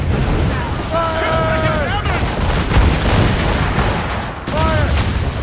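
Ship's cannon volley in Assassin's Creed Rogue naval combat: a rapid crackling fusillade of heavy booms rolling for several seconds, loud and dense, with crew voices calling out over the din.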